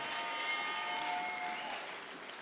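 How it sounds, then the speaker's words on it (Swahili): An audience applauds a bishop inside a cathedral, a steady wash of many hands clapping at moderate distance and fairly quiet, lasting the full stretch with no voices over it. "Pigeni Bishop makofi"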